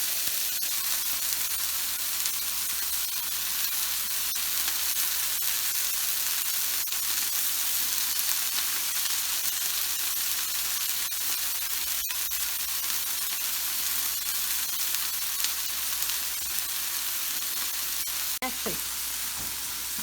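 Onions, corn and jalapenos sizzle steadily in a pan, a dense, even hiss close by that holds for the whole stretch with a few faint clicks and no talk.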